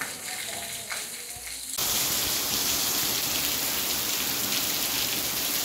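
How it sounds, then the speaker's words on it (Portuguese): Hard, heavy rain in the Brazilian Northeast starts faintly, then swells suddenly into a loud, dense, continuous drumming roar that holds to the end. "A chuva hoje tá fortemente."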